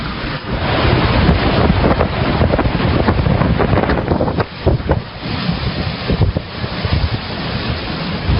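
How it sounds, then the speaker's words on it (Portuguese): Strong gusting wind from Hurricane Irma buffets the microphone, a loud continuous roar with rumbling surges and brief dips, no voices. "o furacão está passando bem forte agora, muito barulho."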